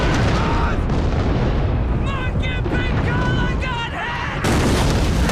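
Artillery explosions from a World War II battle scene in Band of Brothers. Heavy, continuous booming and rumbling fill the sound, with voices shouting over the barrage.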